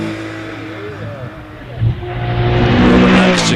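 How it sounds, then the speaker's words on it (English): A rear-engined, air-cooled Porsche race car climbs the hill at a British Championship hillclimb at Shelsley Walsh, its engine rising from a distant drone to a loud, harsh howl as it goes past, with a commentator talking over it. "the very noisy engine in the back of that Porsche"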